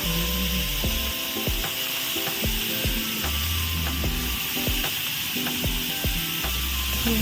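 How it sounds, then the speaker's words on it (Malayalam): Mackerel frying in a pan with salt and spices gives a constant close sizzle and hiss, with scattered small pops and scraping knocks through it and no voices. "ഉപ്പും മീനും കൂടി ഇട്ടിട്ട് നല്ല പച്ചയിൽ പൊരിച്ചെടുക്കാം കേട്ടോ"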